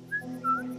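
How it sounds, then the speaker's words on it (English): A character in The Last of Us Remastered whistles two short rising and falling notes, clear and close over a low steady background hum. "Now stop whistling before you get us caught."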